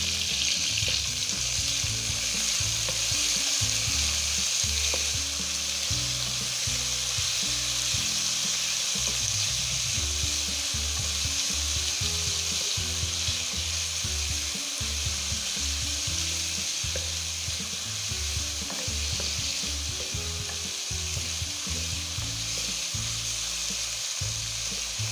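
Chinese cabbage and egg stir-frying in a pan, a loud continuous sizzle with frequent scraping and tossing from a spatula, steady and close throughout, no talk.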